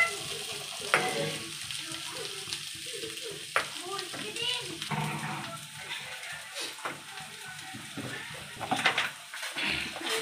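Dry potato sabzi with roasted peanut powder is stirred in a pan, sizzling faintly under repeated spoon scrapes and clinks at a steady rhythm, with a soft voice in the background and a few sharper taps.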